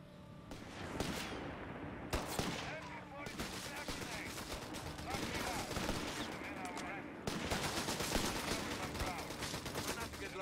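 Dense, rapid video-game gunfire hammering at a bunker, loud bursts that continue almost without pause throughout.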